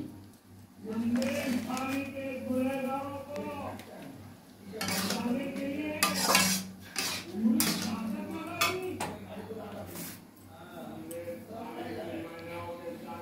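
A pot of green moong dal tadka is stirred as kasuri methi goes in, with scattered utensil clinks and scrapes, including a few sharper knocks, beneath a steady speaking voice.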